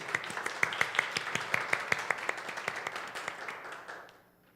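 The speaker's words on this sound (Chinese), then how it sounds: "我们用热烈的掌声来欢迎" Warm applause from a congregation welcoming a speaker to the stage at a church youth service, a steady run of claps that thins out and fades toward the end, with no talk over it.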